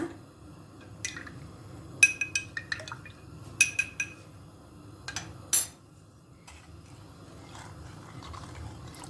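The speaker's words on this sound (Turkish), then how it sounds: "Şimdi içine yarım su bardağında erittiğim 2 yemek kaşığı nişastayı yavaş yavaş ekleyeceğim." Cornstarch dissolved in water is poured into a cheesecake mixture, with a few sharp glass and spoon clinks and a short liquid trickle over quiet kitchen background.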